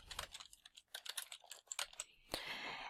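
Fingers type on a computer keyboard, a quick, irregular run of close, soft key clicks and taps with one brief louder clatter near the end.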